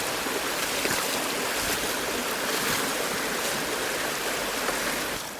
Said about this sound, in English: I'm going to head downriver, have a good wade down